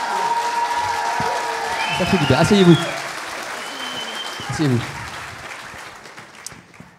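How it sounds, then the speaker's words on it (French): A crowd at a company jubilee celebration applauds steadily while someone speaks over the clapping, and the applause tapers off toward the end. "Prenez les applaudissements."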